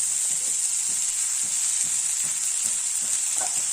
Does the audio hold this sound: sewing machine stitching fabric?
no